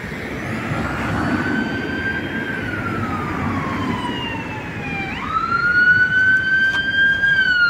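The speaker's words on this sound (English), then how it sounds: "Ambulance." A wailing ambulance siren sweeps up and down in pitch against steady traffic rumble at a roundabout on Dallow Road in Luton, UK, growing louder toward the end.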